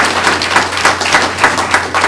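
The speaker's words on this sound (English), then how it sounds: "That's worth a round of applause." Applause at a board of education meeting, a modest group clapping in uneven bursts that rise and fall over a couple of seconds, fairly close and steady, with a low hum underneath and no talking.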